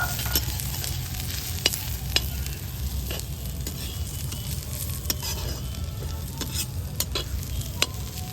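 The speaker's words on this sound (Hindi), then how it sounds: "तो गाइस ये तल रहे हैं कटहल" Jackfruit pieces deep frying in oil, a dense, steady crackling sizzle with sharp pops and occasional stirring clicks, close up and continuous.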